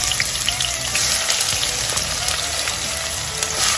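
Chopped onion frying in hot oil inside a pressure pan, with a steady, dense sizzle and crackle that continues unbroken and fairly loud throughout, with no talking.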